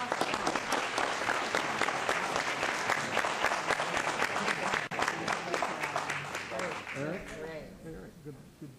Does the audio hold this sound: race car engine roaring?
no